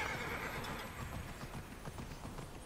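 Unicorn mount galloping in Immortals Fenyx Rising, a steady drum of quick hoofbeats close by with a whinny near the start, busy game ambience behind and no talking.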